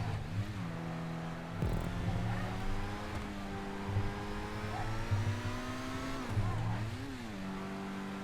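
S80RR supercar in GTA 5 revving hard, its engine pitch climbing and dipping through gear changes, with a burst of tire squeal around the middle and continuous loud engine drone throughout.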